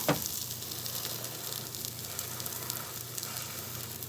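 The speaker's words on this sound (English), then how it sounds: "I have to kind of squeeze it a little bit to make sure that all the juices are I mean, all the raw egg is like cooked" Egg omelette frying in a pan, a steady close sizzle with crackling pops and a sharp clack at the start, continuing evenly throughout.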